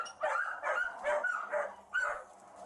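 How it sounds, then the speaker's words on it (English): Great Dane puppies barking and yipping in cages, a quick run of five or six high, excited barks at close range with brief gaps between them. "Then all those puppies in them cages are Great Danes."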